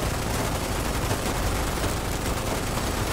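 Continuous gunboat gunfire in the Foxhole war game: a dense, unbroken barrage of shots and blasts roaring steadily for the whole stretch, loud and close with no pauses.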